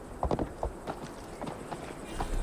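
Hoofbeats of a ridden horse in Assassin's Creed Valhalla, a quick uneven clip-clop of several close, distinct strikes over a low ambient bed.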